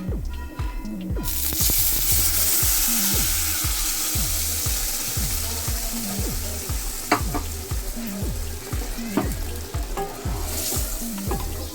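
Lentils for a Bengali wedding-style mixed vegetable dal go into hot tempering in a pan, setting off a sudden loud sizzle after a brief pause that then hisses steadily and densely, with a regular low thudding pulse underneath.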